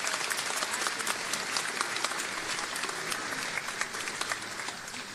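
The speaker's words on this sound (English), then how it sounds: "Everybody was clapping, so I wanted them to hear that part." A crowd applauds steadily, a dense patter of many hands clapping at moderate distance for several seconds.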